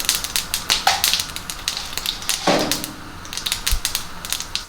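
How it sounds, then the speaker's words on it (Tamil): Mustard seeds crackle and pop in hot oil in a pan while goat leg kulambu is being cooked, giving dense rapid sputtering with a few sharper bursts, near and moderately loud. "அதில் வந்து கடுகு போட்டுக்கலாம். கடுகு பொரியுது"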